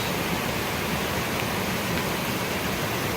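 Storm runoff pours downhill across a hiking trail on the Appalachian Trail in Connecticut or Massachusetts, a close, steady rushing hiss of water that never lets up.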